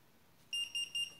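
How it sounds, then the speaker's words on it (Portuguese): A FIMI A3 drone remote controller gives three short, high, clean beeps in quick succession after a quiet start. "Ele vai apitar um bip no controle, olha."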